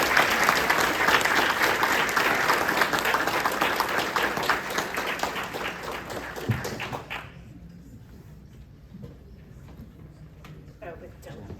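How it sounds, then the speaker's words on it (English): Indoor audience gives a round of applause after a talk on spotted turtles, with full, dense clapping that slowly fades and stops about seven seconds in, followed by a few stray claps and quiet voices. "another round of applause"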